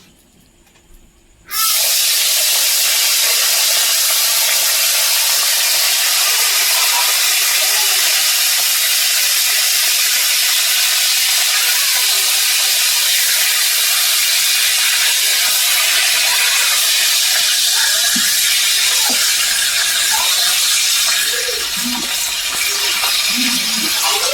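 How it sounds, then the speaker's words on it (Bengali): Hilsa fish heads dropped into hot oil in a kadai burst into a loud, continuous sizzling hiss after a brief quiet start, with small pops and crackles scattered through the frying. "ইলিশ মাছের মাথাটা আমি ভেজে নেবো"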